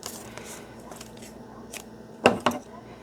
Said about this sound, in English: I'm going to cut the strings off